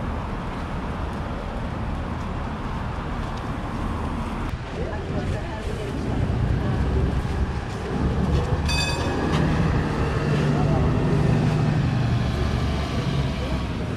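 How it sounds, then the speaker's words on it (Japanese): A JAL Pak Rainbow Trolley bus pulls away from a stop in Waikiki, its engine rising under busy street traffic noise, with people talking nearby and a brief high beeping partway through. "JAL パックのレインボートローリーは乗客がいないまま発車しました"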